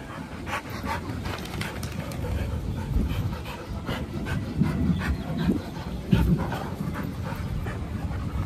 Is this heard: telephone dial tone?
no